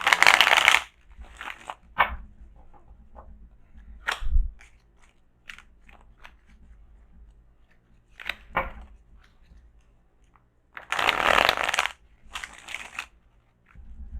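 Crisp bursts of shuffling tarot cards riffle close to the microphone, several loud flurries separated by quieter taps and soft handling noises.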